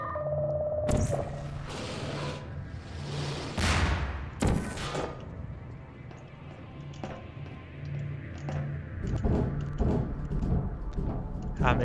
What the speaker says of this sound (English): if you get hit by the rocket, you hear that tinnitus sound